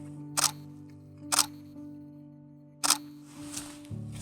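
Three crisp camera shutter clicks from a wildlife photographer's DSLR, fired singly at irregular intervals against a quiet outdoor background with a low steady hum.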